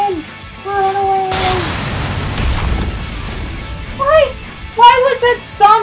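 Bombs bursting from a zombie in the video game Lollipop Chainsaw: a loud, sudden explosive boom with a rumbling noisy tail, set amid game music and voices.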